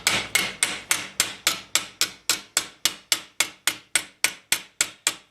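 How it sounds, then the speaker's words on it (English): Flat-faced hammer striking embossments on a steel mitten gauntlet, about seventeen crisp metallic taps in an even, steady rhythm, each ringing briefly and close, with no talk. "using a flat-faced hammer to refine the shape of the embossments"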